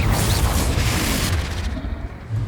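A Confringo blasting spell explodes in Hogwarts Legacy, a dense, loud rumbling blast with deep low-end boom that sustains across the moment before tapering slightly, then swelling again at the end.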